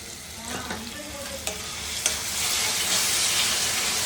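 Ginger garlic paste sizzles and fries with chicken in hot oil for a spicy pepper chicken curry, a steady close crackle broken by a few stirring scrapes and rising to a fuller hiss toward the end.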